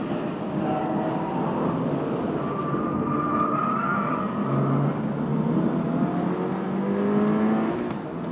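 A Toyota GR86 on sticky tires laps a race track, its engine a steady, loud drone whose pitch rises and falls through the run, filling the whole stretch without a break.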